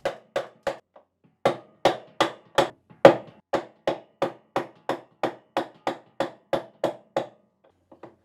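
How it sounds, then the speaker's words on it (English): Hammer tapping a wrench on a stubborn gearcase nut of a Whirlpool/Maytag washer: a series of about twenty sharp metallic taps in two quick runs, steady rhythm, close and fairly loud, no talk. "you may have to tap the wrench with a hammer to get it started"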